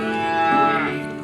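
A recorded cow gives one loud, sustained moo, close and clear, with no talk.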